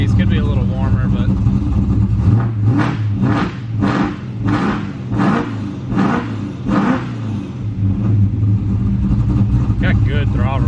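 A nitrous-fed, E85-fuelled car engine revs up close several times in a row, loud throttle blips rising and falling over a steady idle.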